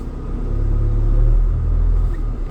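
A Linde H35T-02 forklift pulling forward, its engine giving a close, steady low rumble that swells gently through the middle and eases off near the end, no voices.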